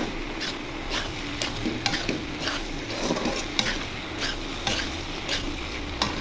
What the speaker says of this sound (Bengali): ঢাকনা উঠাই দেখি নেড়ে চেড়ে দিই আলুটা